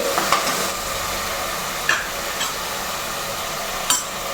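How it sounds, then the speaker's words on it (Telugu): Onion paste and masala fry slowly on a low flame for an Andhra fish curry, giving a soft continuous sizzle with a few scraping stirs and knocks against the pan. "మెల్లగా ఉల్లిపాయ స్మెల్ పోయేదాకా సిమ్లో పెట్టుకుని వేపుకోవాలి"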